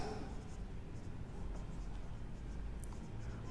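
Steady scratchy strokes of writing on a board during a physics lesson on electric flux, soft and continuous against faint room noise.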